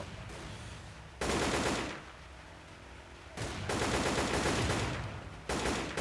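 Automatic AK rifle gunfire in a video game, loud close bursts of rapid shots in three sustained volleys separated by short quieter gaps.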